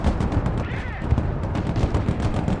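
Heavy gunfire and booming shots from an M1 Abrams tank battle in the video game Broken Arrow, a dense, continuous barrage of rapid reports and thuds close up, with faint voice fragments underneath.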